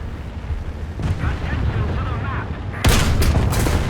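A tank cannon fires in War Thunder, with a Challenger tank in the fight: a sharp, loud boom breaks over continuous rumbling engine noise and battlefield din, with a voice speaking faintly underneath.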